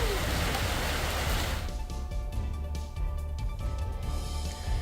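Heavy April rain with hail pours down in Ramban, Jammu and Kashmir, a dense, loud hiss that suddenly thins into softer, patchier pattering over a low hum.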